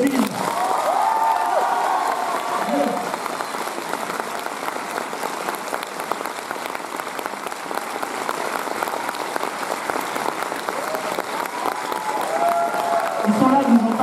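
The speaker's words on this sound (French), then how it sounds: "Alors on va faire à l'applaudimètre." Cinema audience at a film screening and debate at UGC Bercy breaking into sustained applause with cheers and whoops, loud and continuous across the whole stretch, with a few voices calling out over the clapping.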